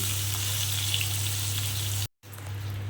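Eggplant pieces frying in oil in a pan for a Bengali begun ilish dish, a steady close sizzle with a low hum underneath, cut by a brief moment of silence before the frying resumes.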